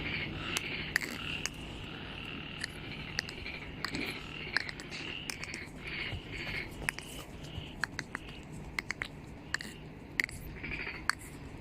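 A human voice imitates a frog's croak with a run of short, rough, repeated croaking bursts at an uneven rhythm, fairly faint against steady background hiss.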